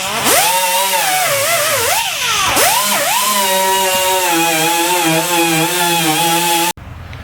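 A wire wheel on a power tool whines loudly and continuously while grinding rust from a 1972 Dart trunk lid, its pitch dipping and rising under load before stopping abruptly.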